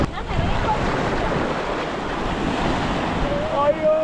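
Sea waves washing onto a beach, a loud steady roar of surf with wind buffeting the microphone, continuous throughout the short stretch.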